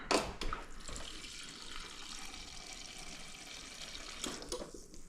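A splash of water is poured into a pan of venison Swiss steak, giving a steady, close rush of running liquid that begins with a sharp burst and fades slightly near the end.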